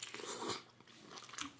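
Someone bites into and chews lobster, giving faint, close, wet crunching and chewing bursts over a short moment, with no speech.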